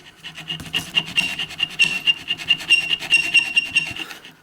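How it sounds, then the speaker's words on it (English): A metal bicycle cable stop is filed by hand to cut a notch, with steady back-and-forth rasping strokes in a quick, even rhythm, close and fairly loud, no voices. "Okay, so I've been filing on this piece. I got a notch cut in there."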